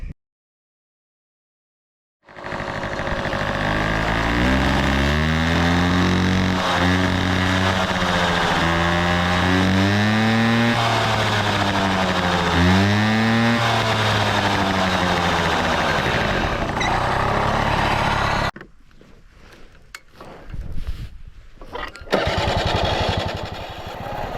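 A Peugeot 105 R moped with a double variator runs just after starting, its small two-stroke engine buzzing loud and close, revving up and down in waves before cutting off, followed by a few scattered knocks and rattles.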